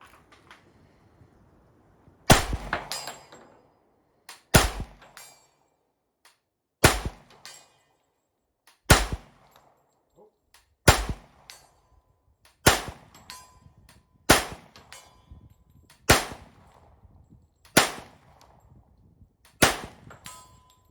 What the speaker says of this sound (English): Let's see if we can ring steel at 50 yards.